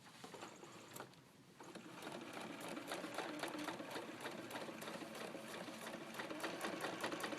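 A sewing machine top-stitches a lapped zipper in a continuous, fast mechanical hum and patter that runs close and steady nearly throughout, with a brief dip near the start.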